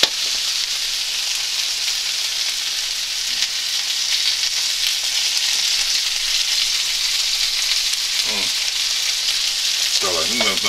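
Chicken legs fry in a pan with a steady, close, loud sizzle throughout, along with a couple of brief faint clinks near the end.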